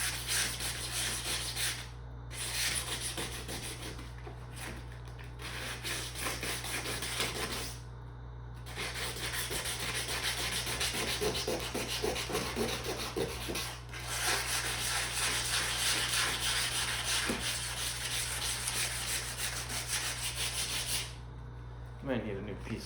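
A Demon bumper is sanded by hand with sandpaper: close, raspy scrubbing strokes that run in long continuous stretches, broken by a few brief pauses.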